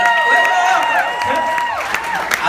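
Wedding guests clap and cheer together, a busy crowd of hands and voices heard at moderate loudness, while sustained tones from speech or singing run above the applause.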